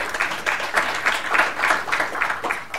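Audience applause at a DevOpsDays Singapore Ignite talk session, a steady wash of many hands clapping filling the room, loud and continuous with a slight pulsing rhythm throughout.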